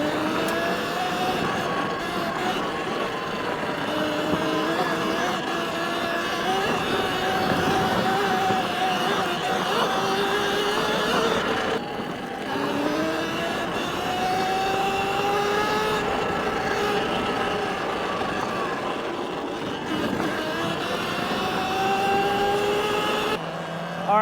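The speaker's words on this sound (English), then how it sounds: "Let's see how this bike does off-road." A Talaria xXx electric dirt bike rides off-road, its motor whining steadily and rising and falling in pitch with throttle, loud and continuous with tyre and wind noise, briefly easing around the midpoint.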